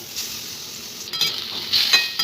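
Soft sizzling of hot mustard oil in a wok, with a few brief bursts of louder crackle toward the end; no voices.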